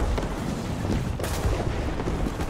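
Video game gunfire crackles through a dense, noisy game mix, with one sharp blast standing out midway and no voices.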